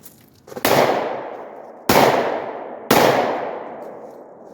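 Three loud pistol shots fired left-handed, spaced about a second apart, each a sharp crack followed by a long ringing decay outdoors.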